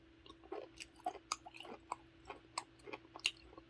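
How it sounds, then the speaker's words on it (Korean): Close, quiet chewing of gooseneck barnacles, with soft repeated crunches and squishy bites in an irregular rhythm. "이번에는 거북손만 한번 먹어보겠습니다."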